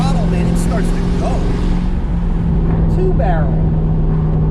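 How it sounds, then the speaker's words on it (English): A 1964 Dodge Polara 500 with a big-block 383 two-barrel V8 and stock cam accelerates on a back-road highway, its loud, steady low engine drone filling the cabin throughout. "When you roll on the throttle, man, it starts to go."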